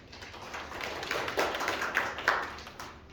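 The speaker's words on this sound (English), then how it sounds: "We can hold the applause too" Audience applause after remarks at a city administration press event on homelessness, soft, scattered clapping from a modest crowd, faint and fairly distant.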